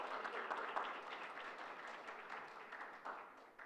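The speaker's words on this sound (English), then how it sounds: "Give them a round of applause" Audience applause at an academic symposium honoring scholars, a steady wash of many hands clapping at moderate, fairly distant level, sustained through the whole stretch with slight swells.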